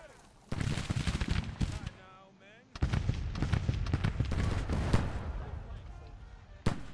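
Lorentz rifle volleys in a Grand Tactician: Civil War battle, with repeated sharp cracks and rattling bursts of gunfire over dense battle noise, pausing briefly and then resuming steadily, ending in one loud close shot.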